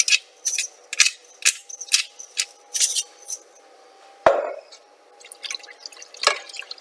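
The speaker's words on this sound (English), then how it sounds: "So I'm going to start whisking this" Whisk working milk sauce in a pot for macaroni and cheese gives bursts of wet metallic scraping and sloshing in uneven strokes, with one sharp knock partway through, close and clear with no talk.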